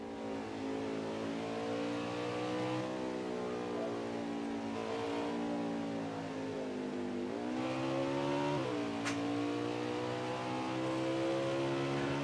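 A race car at Watkins Glen lifts off and downshifts through a corner, its engine a steady, close drone whose pitch falls and climbs again with blips between gears, with no talk over it.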